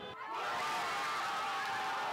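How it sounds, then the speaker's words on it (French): Dense crowd of football supporters celebrating on the Champs-Élysées in Paris, a steady roar of cheering and shouting with car horns, continuous and loud after a brief quieter start. "Sur les Champs-Élysées à Paris, la foule est immense, au milieu des fumigènes et des klaxons"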